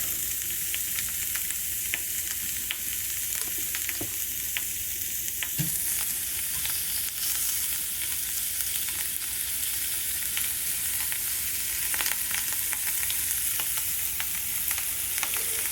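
Morel mushrooms sauté in butter in a pan, giving a steady, close sizzle and fry crackle throughout, with occasional small pops and brief stirring clicks and no talking.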